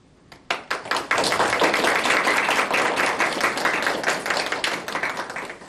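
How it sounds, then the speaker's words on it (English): A room full of people at a meeting breaks into a steady round of applause, starting from a few claps and swelling into dense, sustained clapping that stays loud until the end. "If you are in favor, please indicate your approval with a round of applause."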